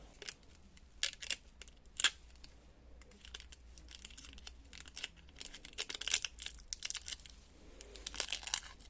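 Packaged jars of paste being unwrapped and opened, with quiet crinkling of plastic wrap, tearing and scattered sharp snips and clicks at close range, irregular and with no talking.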